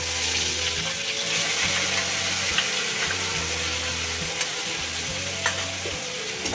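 Garlic sizzles in hot ghee and oil with whole spices for biryani, a dense steady frying hiss with stirring underneath and a couple of light utensil ticks, close and fairly loud, no talk.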